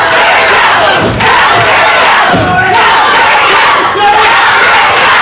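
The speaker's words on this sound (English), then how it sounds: "they're cheering for Jerry" A large wrestling crowd at a championship bout roars and cheers continuously and loudly, with surges of shouting and no clear single voice.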